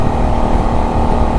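A Benelli 752S motorcycle engine pulls hard on the road, a loud, steady droning growl close up with no voices over it.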